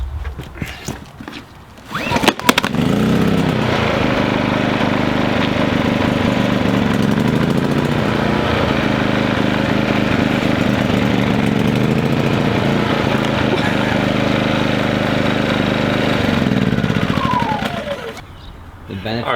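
After a quick pull-start a portable generator for a travel trailer catches, then runs with a loud, steady engine drone close by that fades near the end, with people talking over it at times.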